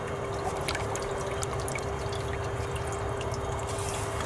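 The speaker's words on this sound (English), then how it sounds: "First, we'll load up the magnet sluice with magnetite." Magnetite is poured with water into a GOLDROP magnet sluice, a steady close trickling and pouring wash of liquid with small splashes throughout, no voices.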